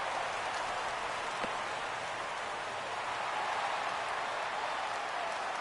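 Rain falling during a baseball game in a PS4 video game, a steady, even hiss of rainfall throughout with no breaks, fairly quiet.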